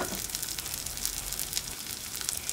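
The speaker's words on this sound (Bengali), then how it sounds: "সরিষার তেল দিয়ে গরম হয়ে গেছে, এর মধ্যে আমি দিয়ে দিচ্ছি পেঁয়াজ কুচি" Chopped onion and green chili fry in hot mustard oil, giving a steady, close hiss of sizzling that holds evenly throughout without any talking.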